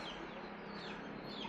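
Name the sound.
chickens and rooster clucking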